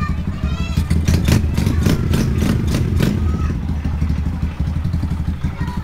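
A nearby Yamaha YTX 125 scrambler motorcycle engine revs in a quick series of sharp throttle blips over its rough, loud idle, then settles back to a steady rumble.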